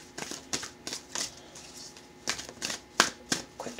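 Crystal Visions tarot cards riffled in a quick shuffle, a string of sharp papery bursts in uneven clusters, close and fairly quiet, with no talking.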